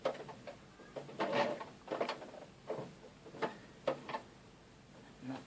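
A sewing machine runs a few short stitches, reversing briefly and then going forward again, giving quiet, close, uneven bursts of mechanical ticking with brief pauses between them.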